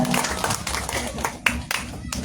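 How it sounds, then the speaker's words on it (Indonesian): A crowd at a campaign rally for Sumba Timur regent candidates claps for the regency's campaign team chairman. The brief bursts of clapping come in uneven waves, mixed with a voice speaking over them. "mari kita berikan tepuk tangan yang penuh semangat untuk Ketua Tim Pemenangan Kabupaten Sumba Timur kita"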